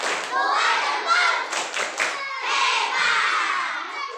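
Elementary schoolchildren clap and thump along in a rhythmic thumb-clapping chant, their voices chanting together over the dull, busy patter of hands.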